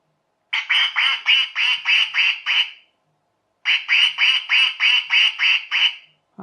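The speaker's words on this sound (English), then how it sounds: "It quacks and it" A quacking duck bath toy with a sound chip gives two loud bursts of about seven electronic quacks each, separated by a short pause, with nothing else heard.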